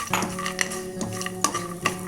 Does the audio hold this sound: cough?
no